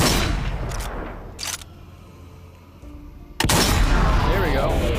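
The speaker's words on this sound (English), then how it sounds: "what we have to do is try to shoot them in the head" Gunfire aimed at zombies in the shooter game Zombie Army, a few sharp shots spaced through the clip, the loudest bursts near the start and end with quieter game ambience between.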